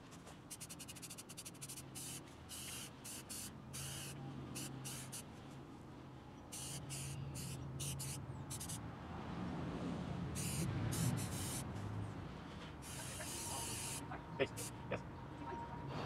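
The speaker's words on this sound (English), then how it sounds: "So I'm just going to do my first coat of orange Trem Clad on here." Orange Rust-Oleum Trem Clad paint is sprayed from an aerosol can onto a guitar pickguard, repeated short hissing bursts with brief gaps, close and fairly quiet, with some talking underneath.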